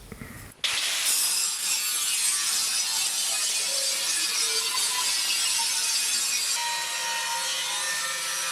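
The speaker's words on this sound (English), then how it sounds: "I'm going to start by cutting out this whole section" A saw cuts through a section of custom lake header pipe in a home workshop, the loud, steady abrasive cutting starting abruptly after a brief moment of quiet and continuing without pause.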